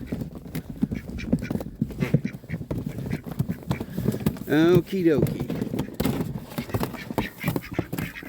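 Ducks quack in a burst near the middle of the scene, held in a corral alongside goats and other farm animals, with a person talking and shuffling sounds throughout.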